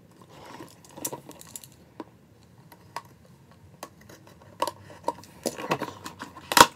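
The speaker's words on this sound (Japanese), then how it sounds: "ちょっと開封していきたいと思います。" Someone opens the packaging of a USB memory stick and transfer cable with scattered clicks, taps, and plastic crinkles, irregular and close, growing busier toward the end with a final sharp snap.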